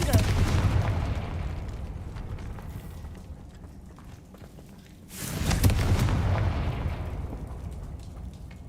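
A Confringo blasting spell explodes in Hogwarts Legacy, a loud broadband boom opening the clip and a second strong blast bursting in around the middle, each decaying into a rumbling tail over game ambience.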